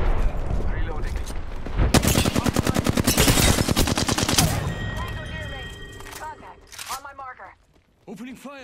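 Gunfire in Apex Legends, a loud, rapid burst of automatic shots lasting a few seconds, then fading into game effects and a voice speaking.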